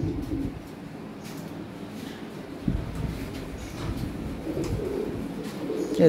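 Red Lahori pigeons cooing in a loft, low soft coos repeating at intervals, close and moderately quiet against a light background hum.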